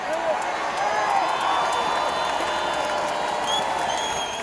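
A vast crowd gathered outside Parliament claps and cheers in a steady, distant-sounding wash of applause with occasional whoops.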